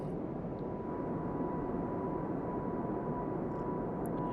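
Engines of an Airbus A220 in cruise in Microsoft Flight Simulator 2024 give a steady, even cabin drone with a faint constant whine over it and no change in level.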